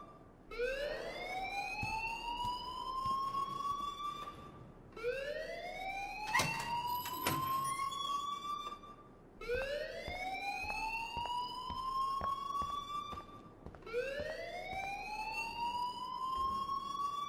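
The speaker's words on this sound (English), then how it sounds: "please turn off that alarm since that's your job" A school alarm in the game Life is Strange wails in four long rising sweeps, each climbing steeply then holding a loud, steady tone before cutting off, repeating at a regular pace with no voices.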